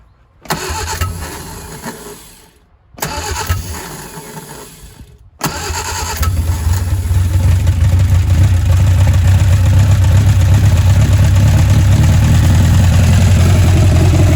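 A 1959 Reliant Regal Mk5 engine cranks in two short bursts separated by pauses, then catches and runs steadily, settling into a loud, continuous idle after sitting unstarted for over 20 years.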